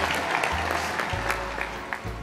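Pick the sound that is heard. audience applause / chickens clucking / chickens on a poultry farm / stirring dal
audience applause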